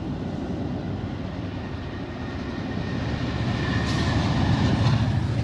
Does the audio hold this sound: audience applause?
no